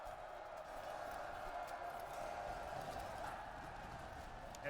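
Massed horses gallop in the strategy game Master of Command, a steady, dense drumming of hooves that fills the whole stretch at even loudness, with a faint voice talking over it.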